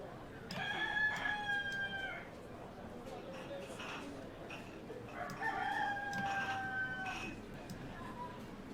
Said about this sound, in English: You know that rooster in the background?